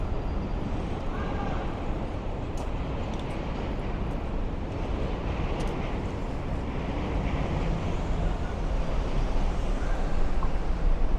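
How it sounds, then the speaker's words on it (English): Low, steady rumble of trains crossing the Manhattan Bridge, heard from a street in DUMBO, Brooklyn, spread evenly through the whole stretch with city noise and wind on the microphone. "if you hear those rumbles, those are the trains going over the Manhattan Bridge"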